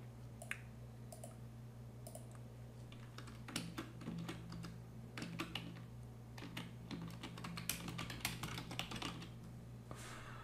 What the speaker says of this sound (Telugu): సో నేను ఒక టెక్స్ట్ని టైప్ చేస్తాను.